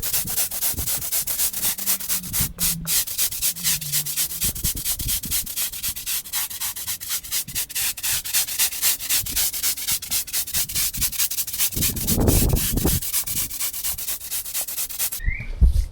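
Steady, continuous scraping and brushing as sand is worked into the joints of a block paving driveway, a close, even rasping sound that carries on without pause.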